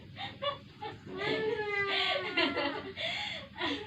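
Newly hatched chicks peep in a busy cluster close by, with high, sliding chirps overlapping almost continuously over a soft background.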